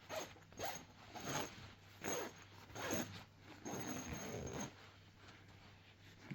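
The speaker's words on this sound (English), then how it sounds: "Open your zipper all the way along." A fabric zipper being pulled open along the cover of a sewn box, a series of rasping bursts with short pauses, close and fairly quiet.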